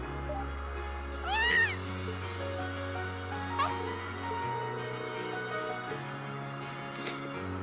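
A cat meows once clearly, followed by a softer second meow, in the video game Trails of Cold Steel, over a low droning game soundtrack with no talking.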